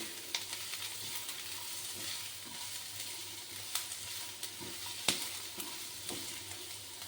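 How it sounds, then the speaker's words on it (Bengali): Onions fry in oil in a pan until reddish-brown, ahead of adding marinated morala fish: a soft, steady sizzle with scattered sharp clicks and scrapes from stirring, quiet overall. "দেখুন পেঁয়াজটা লাল লাল করে ভাজা হয়ে গেল"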